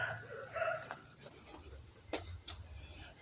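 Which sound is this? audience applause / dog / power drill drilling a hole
dog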